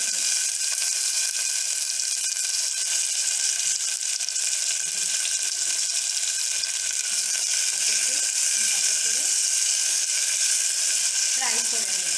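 Cashews and bay leaves frying in oil for basanti pulao, a soft even sizzle with faint clinks and scrapes of a spoon in the pan, close by and with no talking.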